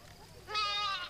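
A single sheep or goat from a herded flock gives a short, wavering bleat that rises out of a quiet background and holds for about half a second, fairly close and clear.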